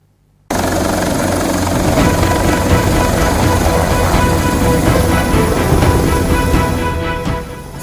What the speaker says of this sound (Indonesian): Sebanyak 15 orang berhasil dievakuasi tim SAR menggunakan helikopter milik Polda Sulsel.